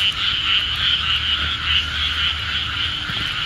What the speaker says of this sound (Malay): So sini banyak katak